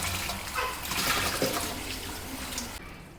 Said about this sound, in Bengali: এই যে লবণ দিয়ে মেখে রেখেছি, ধুয়ে ফেলবো।